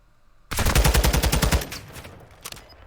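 Rapid gunfire in a Call of Duty competitive esports match: a loud burst of automatic shots for about a second, then fading echoes and a few scattered sounds.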